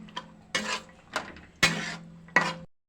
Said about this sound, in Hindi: ग्रेवी हो चुकी है, मैं ऐसे मटर ऐड कर रही है। अब इसे अच्छा से मैं मिक्स कर देगी।